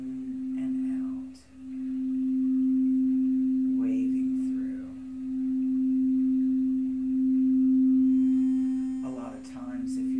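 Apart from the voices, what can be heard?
crystal singing bowl tones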